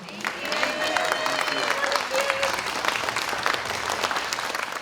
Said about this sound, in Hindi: तो इनके लिए प्लीज खड़े होके जोरदार तालियां बजाएं